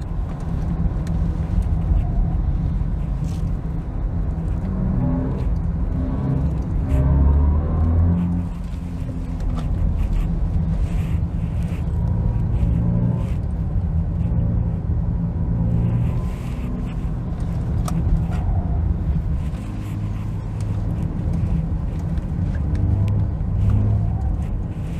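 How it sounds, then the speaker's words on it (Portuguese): A BMW electric sports car drives on a wet test track, giving a continuous low rumble of road and tyre noise with faint hiss and swells of acceleration. The sound is steady and close, with no talk. "a gente está aqui numa pista molhada, né, para testar a aderência do carro, que é muito boa"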